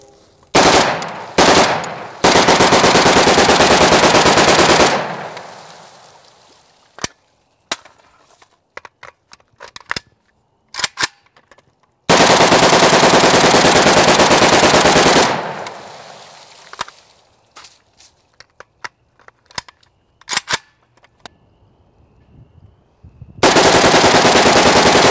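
Saiga AK74 rifle firing several magazines in long full-auto bursts, loud and close, with separate single shots and brief pauses between the strings of fire.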